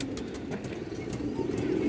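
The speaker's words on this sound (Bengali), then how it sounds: "সবুজ গোলা মাদি কবুতর" A green-necked female pigeon coos in a cage, a low steady murmur running close and continuous throughout, with faint background rustle.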